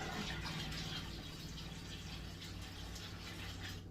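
A soft, steady gush of dye liquid pours into a pot close by for a few seconds, trickling and splashing gently with a faint background hum.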